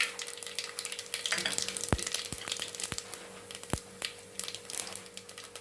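Cumin seeds added to mustard seeds frying in hot oil, cooking a healthy meal for children; a steady sizzle with several sharp pops and crackles scattered through, close and fairly quiet, no talking.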